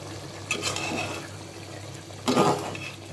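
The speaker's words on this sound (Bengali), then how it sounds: "আমি ওর মাংসটা শুকনো করার জন্য আমি একটু জল দিয়ে দিলাম" Water poured into a pot of cooking mutton and potatoes, two short splashing gushes close by over a low background hum, with no talking.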